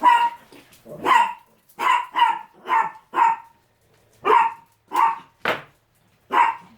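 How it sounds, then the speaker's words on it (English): A dog barks in short sharp bursts, about nine loud barks in an uneven rhythm with brief gaps, close by and alone without talk. "Oh, that's my dog."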